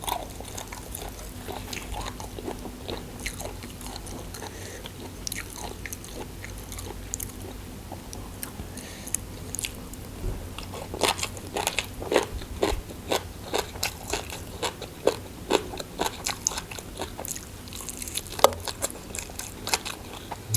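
Close-up eating of Lao-style som tam with stink beans and Hat Yai fried chicken: steady crunchy bites and wet chewing, with irregular sharp crunches becoming more frequent over a long stretch.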